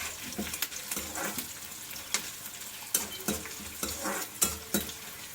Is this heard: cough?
no